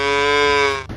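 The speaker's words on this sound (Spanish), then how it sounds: "Mu, como hacen las vacas." A cow gives one loud, close, sustained moo that is rich in harmonics and tapers off at the end, with no talking over it.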